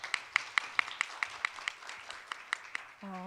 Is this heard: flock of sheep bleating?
no